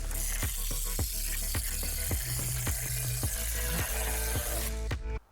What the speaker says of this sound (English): I then attached a grinding wheel to the angle grinder and started working away the surface rust.